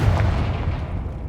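A Confringo fire spell cast in the Hogwarts Legacy video game erupts in a heavy, rolling boom that rumbles on steadily for the whole moment, loud and close, with no voices.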